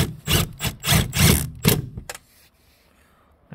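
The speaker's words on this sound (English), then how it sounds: "Now I'm just bolting it down." Bolts being fastened to secure a Renogy solar panel onto a van roof, with 8mm bolts and rubber washers: a run of close, scraping, knocking metal-and-wood rubs over about two seconds, then quiet.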